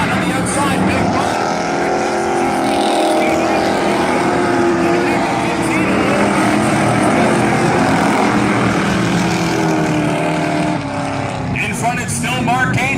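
Dirt track race cars at Valley Raceway roaring continuously at full throttle, a loud sustained engine drone from a close pack, with an announcer talking over it.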